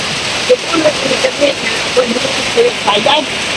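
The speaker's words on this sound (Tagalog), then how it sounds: "Pasensya na kayo, napakaingay ng ulan." Heavy rain pouring steadily onto a surface, a dense hiss with scattered louder drips and patters throughout.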